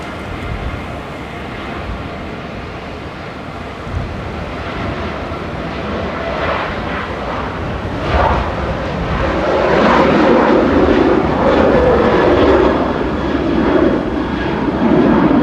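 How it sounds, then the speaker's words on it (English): Royal Air Maroc airliner lining up on the runway at Manchester Airport, a loud rumbling jet engine roar that builds and swells over the final seconds, with no talking. "And lining up next is Air Maroc, going to Casablanca, CNRGE, flight 819."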